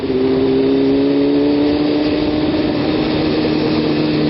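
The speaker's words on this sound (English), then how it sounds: "Get the revs up for this section." Motorcycle engine revving on a winding downhill road through blind corners, a steady mid-pitched drone with rising tones, close and continuous with no talk.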